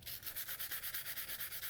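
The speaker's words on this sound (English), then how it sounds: "Not essentially, I am sanding the edge of the knife." A Moritaka gyuto knife edge is sanded in quick, even back-and-forth strokes, a soft rhythmic hiss of abrasive on steel repeating about seven times a second, close and steady with no talk.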